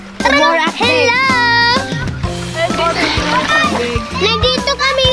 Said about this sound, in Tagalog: Nandito kami ngayon sa ilog, lumiligo.